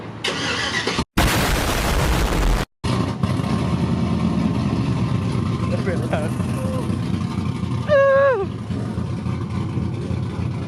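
A loud truck engine on a new build rumbles steadily, with a roaring burst of revs partway through and a rising rev near the end, while people talk over it nearby.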